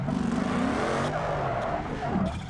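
A car engine in a racing video game roars loudly and steadily, then sputters and stalls, with tire noise mixed in and no one talking.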